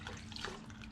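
Liquid pours through a clean funnel into a Chevrolet Monte Carlo during a tune-up, a short steady trickling rush heard up close with no talking.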